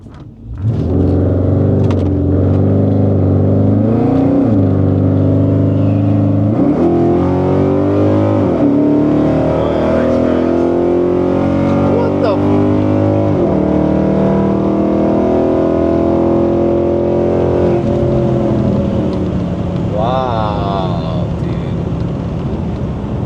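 Chrysler 300 and Hyundai Elantra N roll racing, heard from inside one car as a loud engine revs and climbs through several gear shifts, with a shout at one point and the roar easing near the end.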